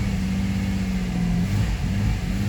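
A 2009 Jeep with a fuel pressure drop and hard starting idles steadily as gas is given, the engine note rising slightly into a sustained, even hum that holds without climbing much further, close and alone.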